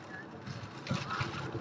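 Strong wind buffets the microphone on an Irish road trip past snow-capped mountains, a steady rushing roar with louder gusts near the middle, under faint voices.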